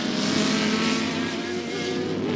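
Race car engines at Sebring in the 1999 American Le Mans Series, a Porsche and the number 12 Ferrari, roar loud and close with sustained high revving throughout.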